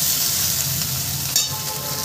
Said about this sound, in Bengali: দেখো ফ্রেন্ড, আমটা আমার সুন্দর করে ভাজা হয়ে গেছে।